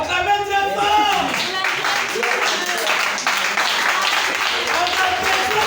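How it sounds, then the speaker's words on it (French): An audience claps and cheers loudly, with dense, continuous applause and voices rising over it throughout. "Acclamez très fort"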